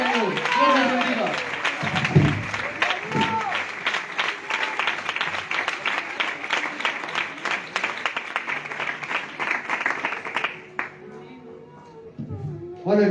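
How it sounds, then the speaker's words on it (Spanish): A church congregation claps steadily in sustained applause, dense and fairly loud for about ten seconds before it thins out, with voices mixed in at the start and end. "dan un aplauso para el Señor"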